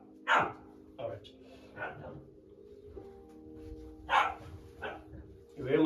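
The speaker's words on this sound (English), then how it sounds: "You hear my dog, one of our dogs, barking outside of the shed." One of the household dogs barks outside a shed, a series of sharp, fairly close barks spaced a second or so apart, with a low steady hum underneath.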